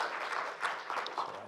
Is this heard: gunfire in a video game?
no